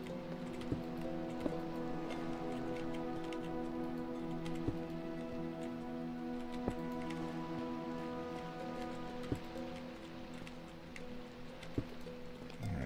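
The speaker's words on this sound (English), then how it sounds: "Raining outside." Steady rain falling with scattered drips and occasional sharp ticks, over a constant low hum; no voices.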